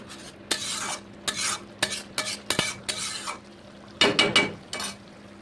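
Spice paste for a Barishal-style aar fish curry being stirred in a pan, with a little water added: a handful of quiet scraping strokes against the metal, spaced unevenly over a faint background sizzle.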